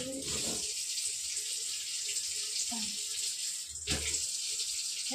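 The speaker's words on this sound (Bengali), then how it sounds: "চোখের মধ্যে জল দিয়ে দিই, ঘুমটা ছেড়ে যাবে" Water is splashed onto a child's eyes to wake him: soft running and splashing water with a few small splashes, fairly faint and without talk.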